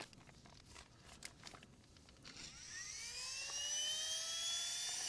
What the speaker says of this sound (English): We're going to use this little pump.